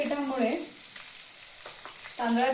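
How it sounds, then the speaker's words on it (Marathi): Rice-flour-coated river fish hiss loudly as they drop into hot oil, a close, continuous frying sizzle with a few sharper crackles and brief tonal squeaks. "हे बघा, हे असं गरम गरम तेलामध्ये सोडायचं आहे."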